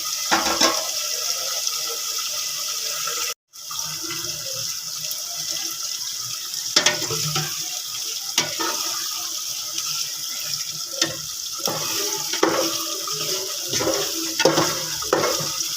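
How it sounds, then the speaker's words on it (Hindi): Water being poured into a pan of onions for a chicken shahi korma gravy, a steady close splashing and hissing stream with a brief break, continuing with sizzle-like bubbling and small clinks, no talking. "फिर बिल्कुल आधा कप यानी कि ना हम लोग इसमें पानी ऐड कर देंगे ताकि हल्की हल्की ग्रेवी हो जाए।"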